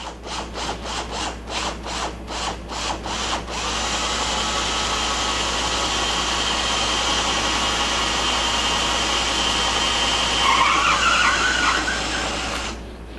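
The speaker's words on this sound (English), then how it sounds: "Alright, so I have the drill in reverse." A cordless power drill running in reverse to remove a broken bolt from a Victor safe whirs steadily for several seconds after a few short rhythmic scraping strokes, the motor whine rising slightly near the end before cutting off.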